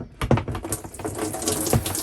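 Water runs from the shower in a 1995 Autosleeper Symphony campervan, a soft, uneven hiss and splatter close by, with faint knocks and handling noises over the stream.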